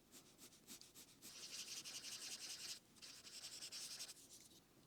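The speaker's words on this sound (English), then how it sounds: "I'm going back and forth between a 2B and a 5B pencil here." Graphite pencil shading on paper while drawing a tornado, switching between 2B and 5B pencils: quiet, close, rapid back-and-forth scratching strokes in bursts with a brief pause, no talking.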